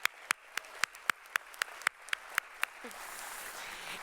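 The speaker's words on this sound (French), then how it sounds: "Un applaudissement pour Sandra." Audience at a gala gives a few sharp, evenly spaced single claps, then a softer wash of broader applause builds near the end.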